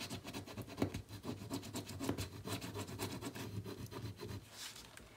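Quiet, repeated scratchy rubbing strokes on a journal page, a rasping back-and-forth rhythm heard close up with no talk.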